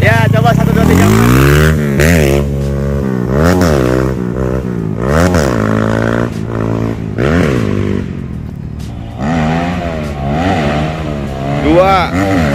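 A fuel-injected Kawasaki KLX mini supermoto with a 200cc bored-up engine revs repeatedly up and down, loud and close, its pitch sweeping in steady waves across the whole stretch.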